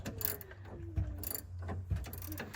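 Ratcheting wrench clicks steadily while a nut on a rear sway bar end link of an MK8 GTI is loosened, close and moderately loud over a low mechanical hum, with no voices.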